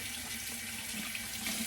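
Warm tap water runs steadily from a faucet to wet a synthetic badger shaving brush, a quiet continuous hiss and splash with no talking.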